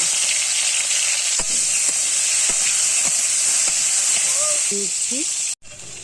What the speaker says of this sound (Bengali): এবার আমি তেলের মধ্যে দিয়ে দেব সেই আগে থাকতে সে মেখে রাখা উচ্ছেগুলো উচ্ছেগুলোকে একটু ভালো করে ভেজে নেব